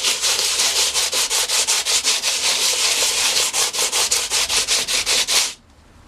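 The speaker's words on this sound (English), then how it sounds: "I put this down, which is, I believe it's an aluminium oxide 40 grit, and I'm going to see if that will cut this more quickly" An oil stone scrubbed back and forth over 40 grit aluminium oxide abrasive makes loud, rhythmic rasping strokes, roughly four or five per second, running continuously up close before stopping abruptly near the end.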